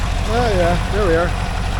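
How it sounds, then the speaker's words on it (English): A 1982 air-cooled VW Vanagon Westfalia engine idles with a steady low, throbbing rumble, heard close while a person talks over it. "I think it sounds like a Volkswagen, doesn't it?"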